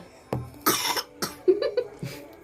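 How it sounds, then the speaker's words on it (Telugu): Several short, sharp coughs from children in quick succession, close by, with brief pauses between them. "దగ్గుతా ఉంటున్నారు పిల్లలు"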